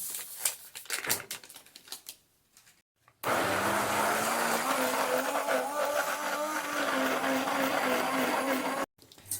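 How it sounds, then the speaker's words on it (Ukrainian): A blender motor whirs loudly and steadily for several seconds mixing eggs and curd after some brief kitchen clatter, then cuts off abruptly. "І все буду збивати блендером."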